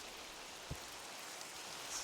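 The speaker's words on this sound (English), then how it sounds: "Best part is I had rain in the background as well" Rain falling in the Minecraft video game, a faint, steady hiss of drops with one soft thump partway through, heard alone without any talking.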